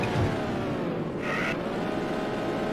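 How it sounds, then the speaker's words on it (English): A race car engine in the video game The Need For Speed roars steadily and loudly throughout, with a brief rise in pitch partway through and no one talking. "The sound of this car is probably my favorite thing about this game."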